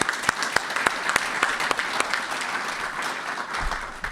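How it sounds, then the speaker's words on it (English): A press-conference audience for the Boca Raton Bowl at FAU claps in a sustained round of applause, with sharp individual claps standing out close by. "Let's first give them a round of applause for those people."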